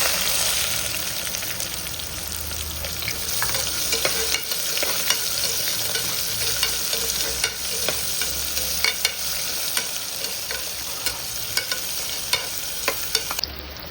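Loud, steady sizzling of chopped onion frying in a hot pan for tomato rice, with occasional scraping and stirring clicks throughout.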